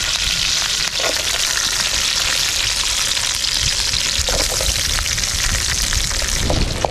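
Curry leaves and onions sizzle steadily in hot oil while cooking pork fry, a continuous close, loud frying hiss with occasional crackles and stirring, no voices.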